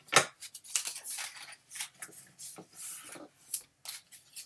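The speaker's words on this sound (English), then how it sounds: "fold on your edge and make sure you burnish that score line really well" Paper folded along a score line and burnished, with close, quiet rubbing and scraping strokes in short bursts separated by brief pauses.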